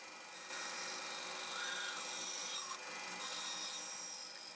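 Bandsaw blade cutting through a piece of white oak for a rustic phone case, a steady close whirring rasp that runs continuously without pause.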